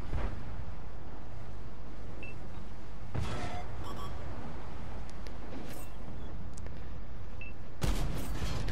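Tank cannon shots in World of Tanks, with a Kranvagn heavy tank in battle, booming loudly twice, around three seconds and near the end, over a constant rumbling engine and battle backdrop.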